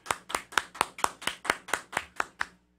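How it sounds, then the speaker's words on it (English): In a radio studio, hands clap about eleven times in an even, brisk rhythm, crisp and close to the microphone, then stop. "You're getting a round of applause for that one here in the studio."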